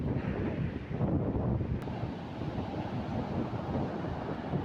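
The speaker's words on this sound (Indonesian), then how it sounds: "Angin bertiup cukup kencang" Strong wind buffets the microphone on Kedu Beach in Kalianda, South Lampung, with rough surf roaring steadily underneath during bad weather, a continuous loud rushing with no voices.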